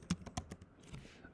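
Quiet computer keyboard typing while coding, four or five soft close keystrokes in quick succession followed by faint residual noise, with no talk.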